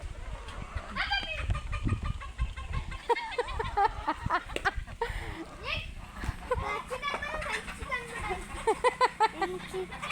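A fighter-breed rooster clucks in short, scattered bursts around a yard, mixed with a voice, laughter and other talk close by.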